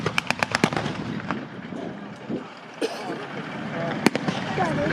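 Gunfire rattles across a WWII reenactment battle display of the capture of Tiger Tank 131, a quick burst of sharp rifle and machine-gun cracks up front, then scattered distant shots and one loud bang, with a voice talking over it.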